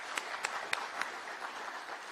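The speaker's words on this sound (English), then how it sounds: "round of applause for CCI Global and everything that you have done here" An audience at the inauguration of a global call centre in Tatu City gives a brief, faint round of applause, with a few distinct claps standing out over a thin patter.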